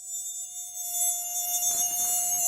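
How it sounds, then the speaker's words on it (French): A mosquito whines steadily close to the ear at night, a thin continuous buzz that swells slightly louder as it hovers nearby. "un moustique se met à tourner autour de toi et te réveille lors de la nuit."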